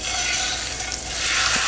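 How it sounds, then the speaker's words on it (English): Steady, loud sizzling of steak frying in a hot skillet, a continuous crackling hiss with no talking. "it's just going to sizzle in the pan like this"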